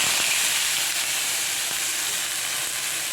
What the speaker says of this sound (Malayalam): കടുക് പൊട്ടിയതിന് ശേഷം നമ്മളതിനകത്തേക്ക് കുറച്ച് സവോള ഇടും.